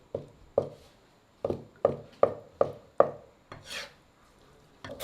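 A kitchen knife chops food on a cutting board in a Chinese home kitchen: about eight crisp, evenly spaced strokes, a short pause, then a softer scrape, close and clear with no talk.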